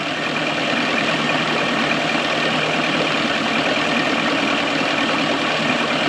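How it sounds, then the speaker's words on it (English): An outboard boat motor idling after adjustment of its idle mixture screw, a loud, steady, close drone with even low rumble and constant pitch throughout, no speech over it. "So it's idling actually pretty good right now."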